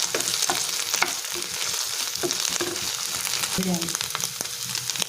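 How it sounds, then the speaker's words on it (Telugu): Ginger garlic paste and curry leaves fry in hot oil in a pan for an Indian egg roast curry, giving a steady close sizzle with scattered crackles and a few stirring scrapes, with no talk. "అల్లం వెల్లుల్లి పేస్టు కరివేపాకు వేసుకొని ఫ్రై చేసుకోవాలి"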